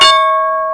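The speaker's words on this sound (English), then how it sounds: "There's the bell." A stock market opening bell rings out with one bright, sustained metallic strike whose clear tones hang and slowly fade, loud and alone.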